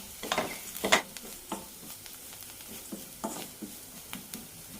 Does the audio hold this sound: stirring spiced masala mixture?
yes